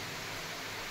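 Heavy monsoon rain falling hard at a village temple, a dense, even hiss of downpour without pause and no voices.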